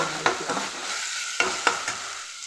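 Onions frying in oil in a pan for mushroom gravy, a steady close sizzle with a few sharp clinks of a spoon stirring against the pan.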